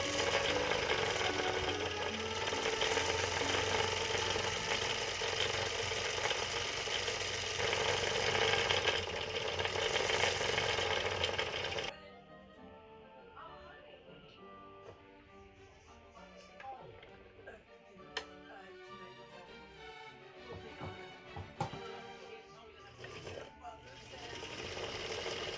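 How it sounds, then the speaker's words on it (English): A domestic sewing machine stitches the cuffs of a vintage-style witch dress, a steady loud whirring run that stops abruptly midway, followed by quieter handling clicks and rustles. "Two bobbins later, and I can begin sewing my cuffs."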